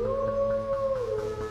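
A long, wavering animal howl rises and bends in pitch over a low rumble, used as a spooky effect in an advert for the horror anthology Howls from Hell; it is loud and continuous with no talk.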